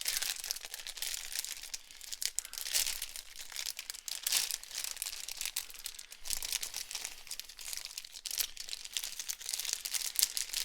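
Thin plastic bags crinkle and crackle continuously while a Bandai Master Grade Sazabi Gunpla model kit is opened, a close, busy rustle with occasional sharper crunches and no talking.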